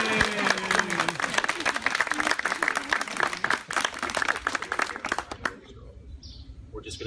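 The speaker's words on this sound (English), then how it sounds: "There could be some applause if you..." Applause at a wedding ceremony right after the bride and groom kiss, with dense clapping from guests that fills most of the moment, overlapped by voices, then falls away near the end, leaving quiet outdoor ambience.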